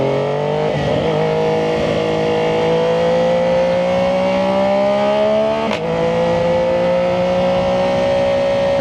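A Triumph 675SS motorcycle fitted with a full IXIL exhaust revs loudly and close, its engine note climbing steadily over several seconds with one brief blip near the middle, running continuously with no talk.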